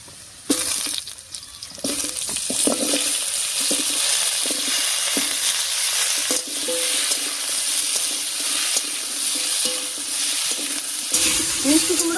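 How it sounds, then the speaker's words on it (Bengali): Pumpkin, eggplant and potatoes are stirred in a little oil in a pan, giving a steady sizzle under repeated scraping and clattering stirs, close and fairly loud throughout. "আর বেগুনটা দিয়ে আলুর সঙ্গে খুব ভালো করে মিশিয়ে নিয়েছি।"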